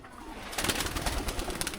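Flyer pigeons emerge from a coop at a house, with soft throaty coos rising close by after a brief quiet start, alongside rustling and fluttering.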